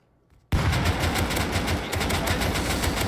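AK rifle fire in the survival game Rust, starting abruptly after a near-silent moment and continuing as a loud, close, sustained burst of rapid automatic shots for several seconds.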